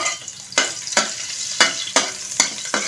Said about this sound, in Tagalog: Yan, mainit na. Lagay natin ng luya.